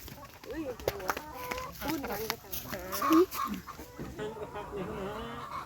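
Chickens cluck and a rooster calls in short bursts around a rural Thai yard, mixed with nearby talking voices and other farmyard noise, the birdcalls close and intermittent.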